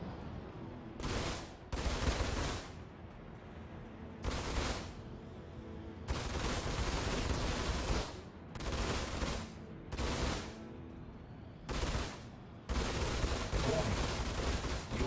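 Spaceship guns fire in the Star Citizen Arena Commander space combat game, loud sustained bursts of rapid gunfire separated by short pauses, repeating about eight times with an engine hum between bursts.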